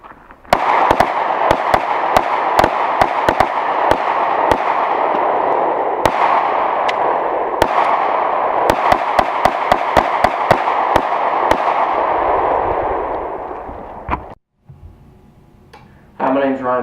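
Pistol shots of three different calibers crack one after another at a shooting range, loud, sharp reports at an uneven pace for about fourteen seconds before they stop and a voice briefly speaks.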